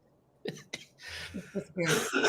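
A person coughs and clears their throat several times in quick bursts, close and fairly loud, the last bursts the strongest, with a little laughter mixed in.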